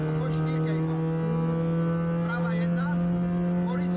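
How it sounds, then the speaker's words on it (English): A rally car engine drones at night on a country road during Rallye Kroměříž, a steady tonal hum that shifts pitch as it downshifts and upshifts, heard from onboard under a faint background. "He's got braking zones. He's downshifting."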